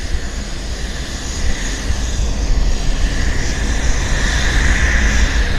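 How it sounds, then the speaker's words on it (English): A Cessna Citation medevac business jet at Vancouver airport gives a loud, steady, broadband jet roar that swells slightly and holds throughout, with no voices. "Citation Medevac"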